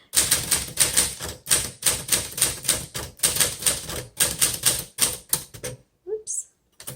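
Rapid clacking keystrokes on a 1949 Smith Corona Sterling manual typewriter come in quick bursts with short pauses, close and crisp, ending with a few scattered clicks and a carriage sound.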